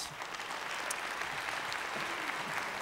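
Audience applause at the 2011 CreaTiVe Awards ceremony for the First Fest winners, a full, even roar of many hands clapping throughout.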